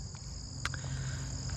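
Bees swarm in a cluster over the front of a hive, giving a constant droning hum with a high steady whine, close and even throughout, with a brief louder rustle near the middle.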